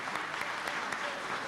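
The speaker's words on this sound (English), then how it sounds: "Please join me in a round of applause for them." An audience gives a round of applause, an even, continuous patter of many hands at a distance, fairly soft and steady for a short stretch.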